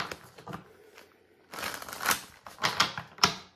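Tarot cards being shuffled by hand in a series of papery riffling bursts, quiet at first and then louder flurries with sharp snaps, close up and with no one speaking.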